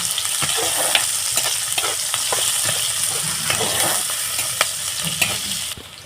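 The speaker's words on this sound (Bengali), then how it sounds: "পেঁয়াজ কুচি দিয়ে দিলাম দিয়ে আমি একটু পেঁয়াজটাকে বাদামি করে ভেজে নেব" Chopped onion sizzles in hot oil while it browns for a prawn and elephant-foot-yam stalk dish, with a spatula stirring and scraping at short intervals over a continuous close frying hiss.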